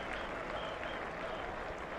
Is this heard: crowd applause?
yes